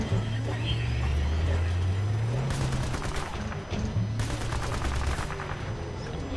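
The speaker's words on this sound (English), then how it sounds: "110 received heavy weapon, small arms, and RPG fire." Video game gunfire from Call of Duty: World at War sounds in two rapid automatic bursts over a constant rumble of engines and battle ambience, with no clear speech.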